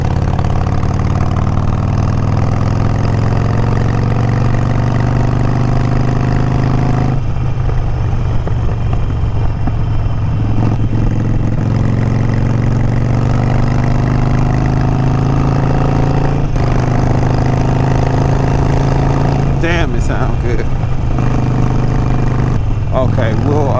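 A Harley Sportster with Vance & Hines Mini Grenades exhaust idles with a deep, steady, loping rumble close by. A few light revs rise near the end, with speech over the engine.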